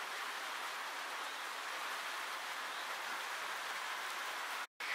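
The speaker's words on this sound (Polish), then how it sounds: "To nic, że w tle słyszycie deszcz." Steady rain falling, a constant hiss of drops with no voices, cut by a brief silent gap near the end.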